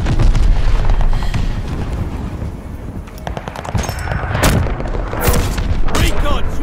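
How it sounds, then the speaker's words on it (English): Mortar rounds from a called-in barrage in the multiplayer video game Call of Duty: Vanguard boom repeatedly, with heavy explosions and rattling gunfire layered into a dense battlefield din, loud and close, alongside occasional voice chatter. "Allies calling a mortar barrage."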